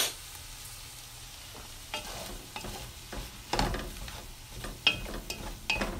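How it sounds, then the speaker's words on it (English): Food sizzling in a hot pan while being stir-fried for meatless sapasui, with repeated scraping and clattering strokes of a utensil over a steady hiss. "Hear the sizzle,"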